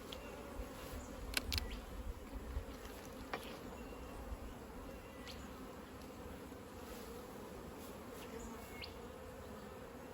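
Honey bees swarm around an open hive during a year-end inspection in Australia, their buzzing a steady, dense drone throughout, with occasional closer individual bees passing by.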